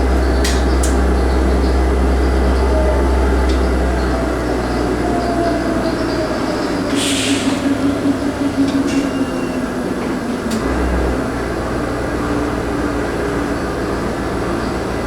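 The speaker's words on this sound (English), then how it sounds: "That's a power plant train right there." A freight train hauling for a power plant rumbles past nearby, a loud low drone with clanking and rattling cars, easing slightly partway through and continuing steadily.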